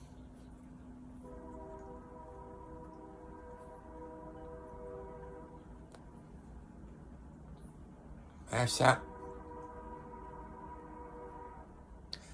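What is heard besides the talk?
train passing, heading southbound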